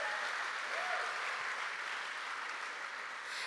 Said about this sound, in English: He's here today if we can give him a round of applause.